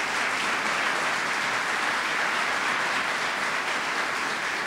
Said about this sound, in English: How about a round of applause for that video?